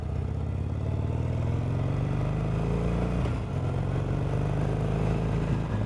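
2020 Harley-Davidson Sportster Roadster XL1200CX ridden in loops: a continuous, loud, throbbing V-twin engine note with a short dip and recovery midway, heard alone up close.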